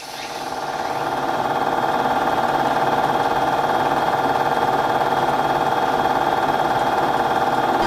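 Motorcars on a rough street in the Philippines give a loud, steady engine drone that rises at the start and then holds evenly throughout.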